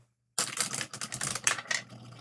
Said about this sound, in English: To which we now roll a dice.